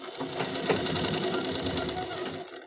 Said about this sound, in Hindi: इस टाइम मैं आपको मशीन चला के दिखा रहा हूँ हमारी सिलाई किस तरीके से मशीन दे रही है